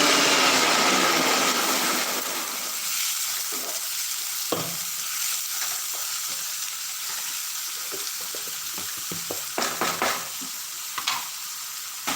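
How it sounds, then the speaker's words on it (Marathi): Onions for rajma masala fry in a pan with a dense, close sizzle, broken by occasional clicks and scrapes of a spatula stirring, with no talk. "आणि या कांदाला बरोबर व्यवस्थित भाजायचा जोपर्यंत तो लाल कलरमध्ये होत नाही"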